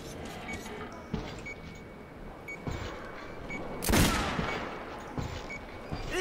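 Gunfire at a shooting range in the video game Metro: Last Light Redux, with a few loud bursts and scattered shots over steady game ambience, the strongest blast near the middle.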